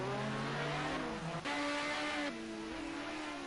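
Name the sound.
race car sliding into turn 1 at the Nordschleife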